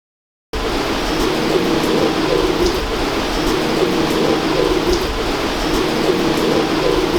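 Continuous, close cooing comes from a pure-bred teddy pigeon, a soft rolling murmur that runs evenly throughout after a moment of silence at the start.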